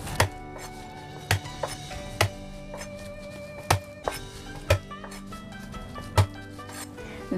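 Small garlic cloves are smashed on a cutting board with a series of sharp, close knocks, about eight firm blows spaced roughly a second apart, over a quiet, faintly humming kitchen background.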